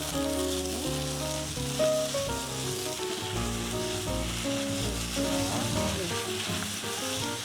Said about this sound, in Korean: 이미 데쳐낸 돼지고기니까 먼저 이렇게 해서 볶아주세요